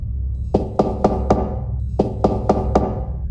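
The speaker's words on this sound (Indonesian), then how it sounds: "Mereka mengetuk pintu." Knuckles rap on a wooden front door in two quick groups of four knocks, close and distinct against a low steady background hum, in a story set at a house with small steps up to the entrance.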